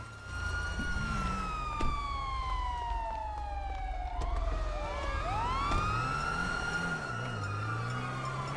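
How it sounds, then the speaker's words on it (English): A police siren wails continuously in GTA Online, sweeping down in pitch and then rising again over the steady rumble of slow city traffic, loud and close the whole time. "you left that fucking siren going"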